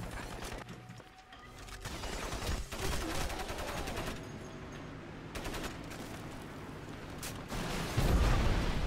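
Video game gunfire and explosions, with rapid bursts of automatic fire, scattered single shots and booming blasts, dense and continuous, ending with a heavier low thump near the end.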